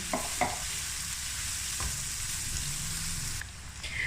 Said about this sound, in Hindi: और इनको हल्का सा फ्राई करेंगे बस।